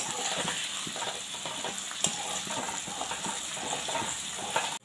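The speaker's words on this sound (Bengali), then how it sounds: "পেঁয়াজটি ভালো করে এবার ভেজে নেবে।" Onions fry in a pan with a steady, close crackling sizzle, broken by a few sharper clicks of stirring.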